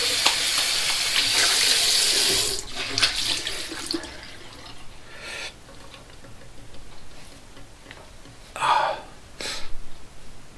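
Cold water runs and splashes at a sink as a face is rinsed after a shave: a couple of seconds of steady close splashing, then scattered drips and small splashes.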